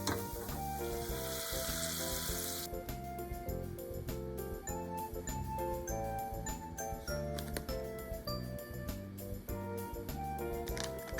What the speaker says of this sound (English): Mix them and heat them. Turn off the heat when the sauce boils.